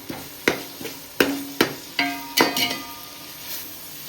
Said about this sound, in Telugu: అల్లం పేస్ట్ వేసి మంచిగా కలుపుకోవాలి.